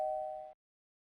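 In the Amiga game Zak McKracken and the Alien Mindbenders, a doorbell gives a single clean electronic tone lasting about half a second, then cuts to silence.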